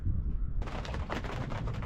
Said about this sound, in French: On entend du tonnerre.